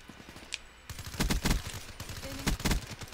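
Bursts of video game shooter gunfire in a team deathmatch match, several sharp close shots in quick clusters with a short gap between volleys.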